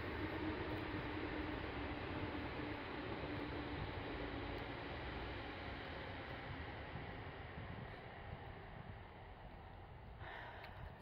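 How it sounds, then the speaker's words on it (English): A train passes nearby, producing a steady, broad rushing rumble that fills the whole stretch. It fades only slightly toward the end, and no voices are heard. "Train!"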